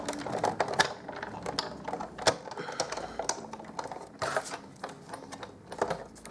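A Big Shot die-cutting machine being hand-cranked to cut a card panel, giving irregular clicking, ratcheting mechanical sounds and sharp taps, fairly close, with no talking.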